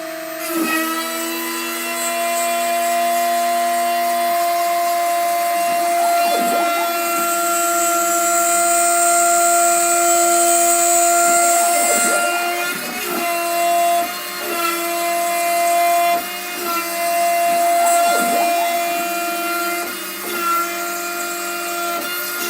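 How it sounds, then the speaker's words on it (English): A CNC router cuts a wooden guitar body contour continuously, a loud steady whine with spindle tones, its pitch dipping and scraping periodically as the bit moves along. "with the same bit, I can finish the contour cut"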